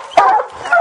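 A bear hunting hound gives a couple of short, loud, close barks and yips in quick succession, with an excited, whining edge.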